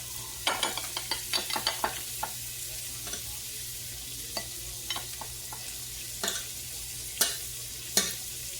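Butter crackling in a pan alongside a ribeye steak in a home kitchen, a steady low frying hiss broken by repeated sharp spatters and clicks of a spoon, close and moderately loud with no talking.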